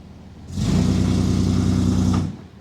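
A newly installed engine on a redneck project vehicle starts and runs, a steady close mid-pitched rumble rising abruptly, holding for almost two seconds, then cutting off, alone with no talk.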